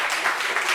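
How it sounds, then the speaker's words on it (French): Audience applause at a French-language meeting or gathering, a steady wash of many hands clapping with no distinct individual claps, continuous and fairly loud throughout the short stretch. "On applaudit ça."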